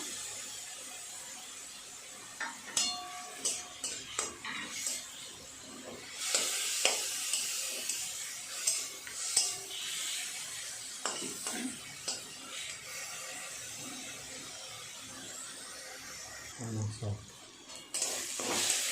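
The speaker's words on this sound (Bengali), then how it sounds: "পেঁয়াজ রসুনটা ভাজা হয়ে গেছে।" Onion and garlic paste fries in a pan, a sizzle under intermittent stirring scrapes and clinks of a utensil against the pan, with brief quiet talk at points.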